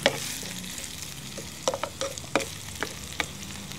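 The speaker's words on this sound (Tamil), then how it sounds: "கிளறி இந்த எண்ணெயில் நல்லா வதங்கி வரட்டும்." A spoon stirs ingredients frying in oil in a pan for a Tamil anchovy fish curry (nethili meen kuzhambu), giving a soft sizzle broken by several sharp scraping clicks, close and alone.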